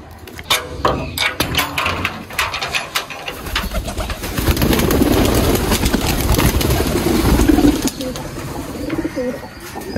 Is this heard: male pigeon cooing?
yes